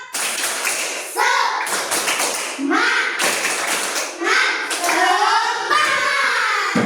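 A third-grade class stands and does a rhythmic 'tepuk semangat' clapping routine, with claps in patterned bursts mixed with children chanting along in sing-song voices.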